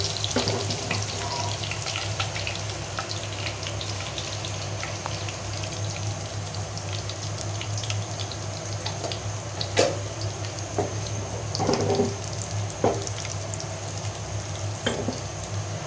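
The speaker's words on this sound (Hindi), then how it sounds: "तड़का लगा देते हैं।" Tadka tempering in a covered pan sizzles and crackles steadily, a dense frying hiss with scattered sharp pops, heard alone with no talk.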